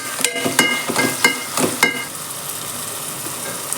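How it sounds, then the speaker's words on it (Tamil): Ginger garlic paste fries with softened tomatoes and onions in a hot pan: several sharp scraping stirs of a spatula come first, then a steady close sizzle continues alone. "தக்காளி வதங்கினதுக்கப்புறம் இஞ்சி பூண்டு பேஸ்ட் போடலாம் கொஞ்சம் நல்லா வதங்கி வரும்"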